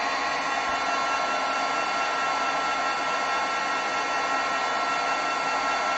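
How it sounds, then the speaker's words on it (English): A heat tool blows hot air to set ink on a watercolored card, a steady, even whirring hiss that holds constant and close for the whole stretch with no talking. "I'm going to heat set the ink up here."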